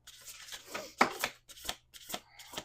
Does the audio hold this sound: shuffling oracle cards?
yes